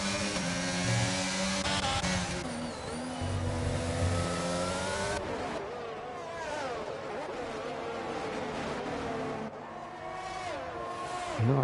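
Race car engines in a racing video game set at a Canadian circuit, a continuous drone of several cars revving and shifting in a close pack, loud and steady throughout with no break.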